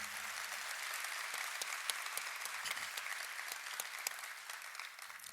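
Steady round of audience applause at an Economic Club of Indiana luncheon, a dense crowd of hands clapping continuously at moderate volume, heard from a little distance in a large room.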